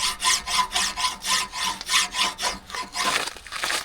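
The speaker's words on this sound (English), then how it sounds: "And now here comes trusty file" A hand file scrapes across the rusty bearing surface of a trailer wheel hub in steady, rhythmic strokes, about a dozen loud close rasps that turn quicker and choppier at the end, with no voices.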